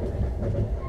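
Train rolling steadily on rails during a long run out of Moscow toward Russia, a continuous low rumble with faint rhythmic clatter, close and even throughout.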